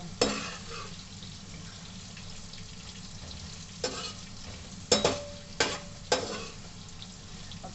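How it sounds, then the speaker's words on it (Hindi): Elephant foot yam (jimikand) frying in a pan at home, a steady soft sizzle running throughout, broken by a few louder stirring scrapes and clatters near the end, with no talking. "सबसे पहले मैं जिमीकंद को फ्राई कर रही हूँ।"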